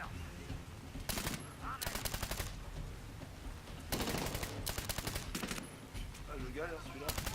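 Bursts of automatic gunfire in the Medal of Honor Warfighter video game, several loud rattling volleys separated by short pauses, with a voice talking over the action.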